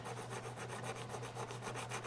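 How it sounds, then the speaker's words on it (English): Sandpaper rubbed quickly over a Royal Doulton porcelain fairy figurine, giving a soft, rhythmic scratchy rasp of rapid back-and-forth strokes, faint and close, with a steady low hum beneath. "Give it a quick sanding"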